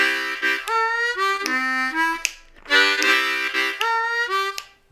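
A C blues harmonica plays a chugging riff over the 4 chord, with bending, sliding notes in two rhythmic phrases and quick breathy chord stabs between them, close and alone.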